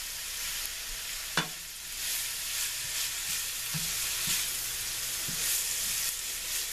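Carrots, mushrooms and ginger frying in a pan as filling for spring rolls, a steady close sizzle with a few sharp clacks of stirring.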